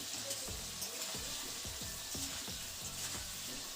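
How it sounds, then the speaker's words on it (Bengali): Potatoes sizzle in mustard oil in a wok, with a continuous hiss and soft clinks and scrapes from a spatula stirring them at irregular intervals; no one speaks. "এখন আলুটাকে হালকা নাড়াচাড়া করে নিচ্ছি"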